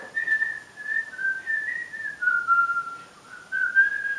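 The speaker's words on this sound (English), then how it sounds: "That's some whistling, huh?" A person whistles a slow, wavering melody alone, clear and close, in short phrases with brief pauses.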